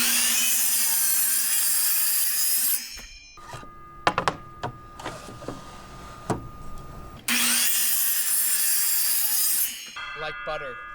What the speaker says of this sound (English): for really square cuts, you can't beat the miter saw